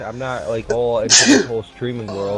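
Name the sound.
sneeze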